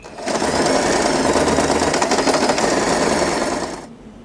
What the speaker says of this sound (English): we are going to sew this part